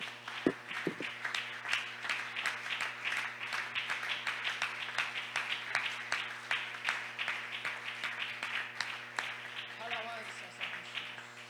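Scattered applause rises from a church congregation at a Spanish-language worship service, fairly quiet and uneven beneath sustained music tones, with a few sharper claps near the start.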